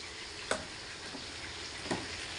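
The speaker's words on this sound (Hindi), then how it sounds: "हमने ऑयल डाला है और इसमें हम गोश्त फ्राई करेंगे जो हमने उबाल के रखा था" Boiled mutton frying in oil in a pan gives a faint, steady sizzle with two brief clinks of a utensil, soft and close.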